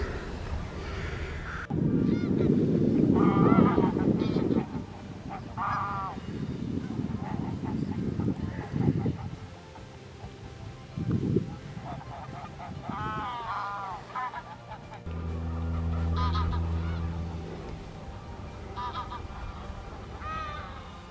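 Geese honk repeatedly in a noisy outdoor scene, a flock calling near and loud, then a few scattered honks over low rumbling.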